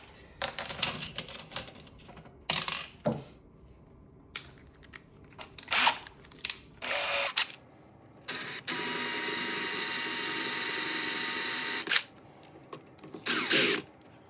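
Small 3.3mm bit drilling a pilot hole for an M4 thread, heard as short intermittent whirring bursts with clicks and handling noise, then a steady sustained high drilling whine lasting several seconds before stopping.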